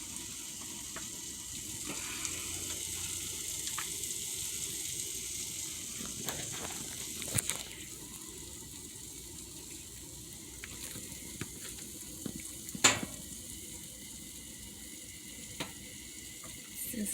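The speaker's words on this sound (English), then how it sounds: "Sizzling away." Steady sizzling of squid rings frying in a pan, a constant hiss with occasional soft clinks and pops, close by and fairly quiet.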